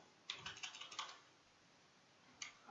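Keys tapped on a computer keyboard to enter a number in a quiet room, a quick run of soft clicks followed by a pause and one last keystroke, no speech.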